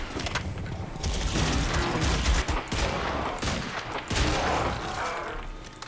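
Revolver gunfire in the video game Crysis 2, with repeated sharp shots among dense mechanical clatter and continuous game combat noise, fairly loud throughout.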